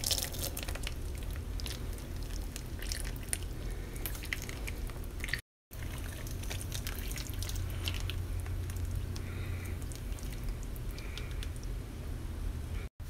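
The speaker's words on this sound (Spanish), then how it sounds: "Ahora lo vamos a vertir sobre los rollitos de carne." Blended tomato liquid poured over stuffed cabbage rolls filled with meat, a steady close wet splashing and gurgling stream that runs continuously with one brief break.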